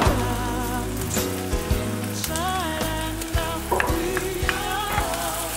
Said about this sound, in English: we're going to start off by frying off my onion and my garlic